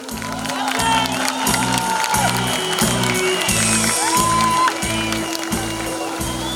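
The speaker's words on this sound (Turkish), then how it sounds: "Çok büyük bir alkış istiyorum." A crowd at a civic welcome for a basketball team claps and cheers loudly in a steady rhythmic beat, pulses repeating about twice a second under scattered shouts.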